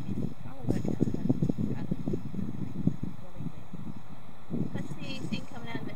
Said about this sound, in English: Sorry about the wind, but we can't sort of change that one.